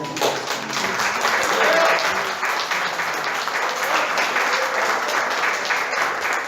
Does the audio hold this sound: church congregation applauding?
yes